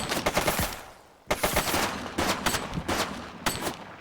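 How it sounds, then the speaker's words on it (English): Video game shootout with bursts of rapid automatic gunfire, dense crackling volleys separated by brief pauses, loud and close with no speech over them. "He's shooting!"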